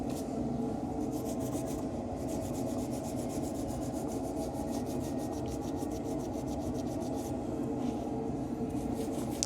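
Steady hand scrubbing or rubbing on an aluminium gearbox casing from a Unimog, a continuous close rasping friction that runs without pause and without talk.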